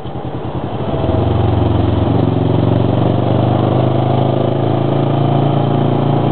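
A Kawasaki Ninja motorcycle engine runs steadily and loudly up close, with a deep harmonic hum. It rises slightly in the first second, then holds an even, continuous drone with no talk.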